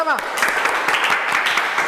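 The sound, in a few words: group applause, clapping together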